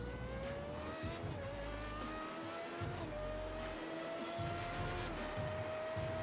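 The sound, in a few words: race car engines during a lap in iRacing video game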